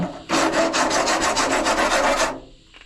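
Brass motherboard standoffs being wound off the board of a 2008 film processor, with a quick run of evenly spaced rasping strokes, close and loud for about two seconds before fading out.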